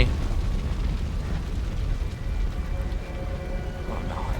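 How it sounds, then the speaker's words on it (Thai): A sustained, rumbling explosion in Resident Evil 2 that keeps on going, with crackling debris noise throughout. It is loud and continuous. "นี่ให้เสียงระเบิดกบเสียงไอ"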